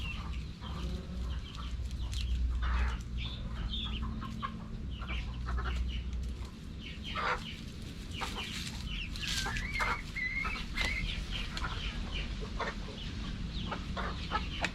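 Chickens cluck in a small coop on a mini farm, scattered short calls from several birds, some near and some farther off, over a low steady background hum.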